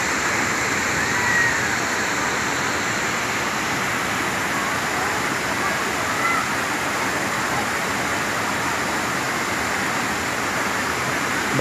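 Kuang Si waterfall near Luang Prabang, Laos, roars as a steady broadband rush of falling water, loud and unbroken throughout with no voices over it.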